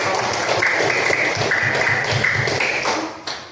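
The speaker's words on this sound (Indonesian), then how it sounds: "Tepuk tangan juga." Applause in a classroom during a mathematics lesson: a steady wash of many hands clapping at once, near and fairly loud, with a few high pings over it before it tails off.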